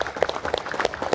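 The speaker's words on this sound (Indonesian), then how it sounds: "Tepuk tangan Pak Bub, buat Pak Bub ini." Small outdoor gathering of farmers and officials at a rice-planting event in a village, brief scattered clapping from a handful of people nearby, uneven and light.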